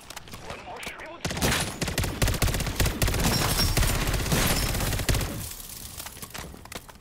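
Rapid bursts of SMG fire in Modern Warfare 3 crackle loudly for several seconds after a quieter start, then ease off, with a voice talking underneath.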